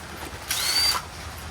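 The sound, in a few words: power tool loosening truck lug nuts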